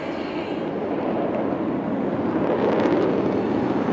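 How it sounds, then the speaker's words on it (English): An Indian Air Force jet pulls up into a tail stand over the Chennai Marina air show, a heavy aircraft of some 30 tons producing a loud, steady, broadband roar that swells slightly toward the end. "here he pulls up, making the aircraft stand on its tail"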